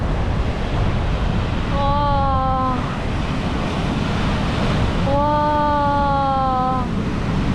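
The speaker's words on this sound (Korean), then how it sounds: "와, 진짜 커요, 파도가." Big, powerful ocean surf at Foz beach in Porto fills the air with a steady, loud, unbroken roar of crashing waves, while a voice twice exclaims in wonder over it.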